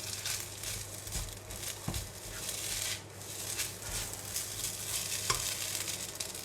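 Garlic rice with oyster sauce and oil stirred in a pan: a soft, steady sizzle with light scraping and shuffling from the stirring, fairly quiet and without talk.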